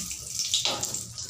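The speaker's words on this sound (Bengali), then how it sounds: "তেল গরম হয়ে গেছে, আমি এখন ফোড়ন দিয়ে দিচ্ছি 2টো তেজপাতা," Two bay leaves dropped into hot oil, a short burst of crackling, spitting sizzle that swells midway, close and moderately loud.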